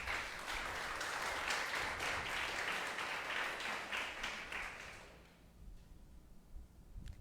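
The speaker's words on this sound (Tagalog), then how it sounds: "pumalakpak ng the best kay Jesus." A church congregation claps in a dense, sustained round of applause for several seconds before it tapers off into the quiet hum of the room.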